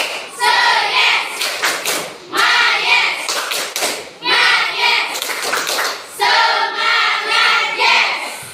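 A classroom of students chants in bursts, with hand claps mixed into each loud rhythmic phrase, repeated four times with short pauses between.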